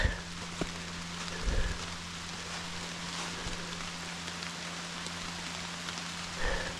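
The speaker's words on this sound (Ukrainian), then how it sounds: "До дощу я не готовий словом зовсім. А паде він не на жарт." Heavy rain falls steadily throughout in the Carpathian mountains, a dense wash of patter with a constant low hum underneath and a few louder drips or thumps.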